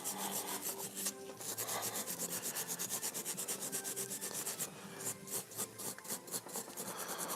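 A red Scotch-Brite pad rubs over a lightsaber hilt from The Force Unleashed in quick, regular back-and-forth strokes, a close, steady abrasive scrubbing with no talking.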